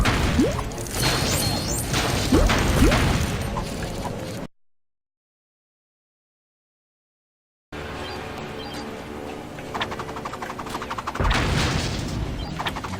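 Crashing explosions and impacts in the game Lego Batman, with rumbling bursts, then a stretch of complete silence before more muffled booms and crackling return.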